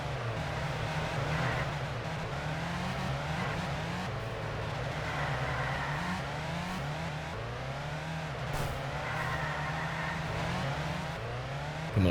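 Sports car engines racing on the Bugatti circuit in France in the top-down game Ultimate Racing 2D, a steady whine of several engines revving up and shifting in repeated cycles, close and continuous.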